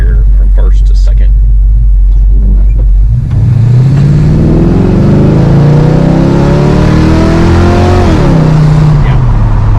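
A 1969 Hurst Olds idles with a deep rumble, then accelerates hard with rising engine tone, shifts from first to second gear with a brief drop in pitch, and keeps pulling, loud and close.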